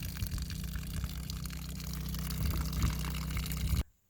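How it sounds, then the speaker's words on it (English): Water drains out of a plant pot into another container with a steady, continuous gushing trickle over a low rumble that stops abruptly near the end, fairly close and without speech. "I'm playing with having the water that drains out of the pot go into another container and into another container."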